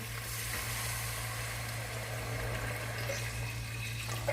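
About 1.5 liters of water pours steadily into a pot of fried mutton with a continuous splashing, rushing sound over a low background hum.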